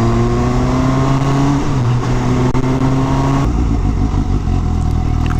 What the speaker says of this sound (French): Elle a de belles reprises en bas régime.